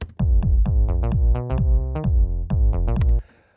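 Punchy kick drum locked with a deep sub bass line in an electronic track, low thumps and sliding bass notes trading in a call-and-response groove, loud and dry, ending abruptly with a short noisy tail.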